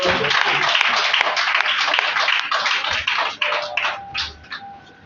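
A congregation at a church service claps in sustained, dense applause that stays strong before thinning and tapering off toward the end.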